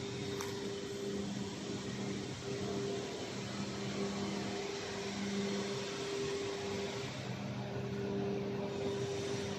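A fiber cement board production line dryer with its fan running, a steady broadband roar with a constant hum beneath it, unchanging and continuous throughout.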